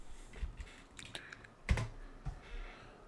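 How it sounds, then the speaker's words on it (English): Keys clatter on a computer keyboard in irregular bursts of typing, close and fairly quiet, with one louder keystroke midway and no voices. "You guys can see what I'm typing."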